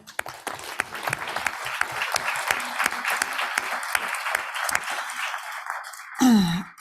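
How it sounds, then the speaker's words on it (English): Audience applause fills a conference room at a disability rights, accessibility and AI event, a dense run of claps that tapers off over about five seconds before a brief unrelated tone at the end. "I think we give the team and all of them a big applause"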